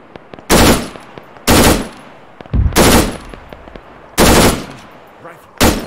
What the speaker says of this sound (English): Contact, machine gun